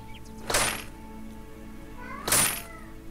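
Two distinct cat meows in a farming simulation game, loud and close, spaced about two seconds apart over quiet background.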